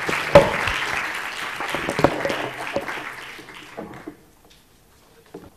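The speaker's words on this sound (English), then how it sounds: "For the speakers as well, a round of applause and thanks for" Audience applause for panel speakers at a city debates conference: a burst of clapping with a few sharp individual claps that thins out and dies away after about four seconds, leaving near silence.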